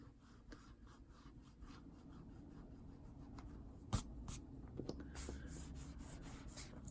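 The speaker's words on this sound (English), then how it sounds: "I'm just gonna lightly put it down and erase some of that." A small eraser rubs lightly over a drawing, making soft scratchy scrubbing strokes with a few sharper taps, close and quiet against a faint background hum.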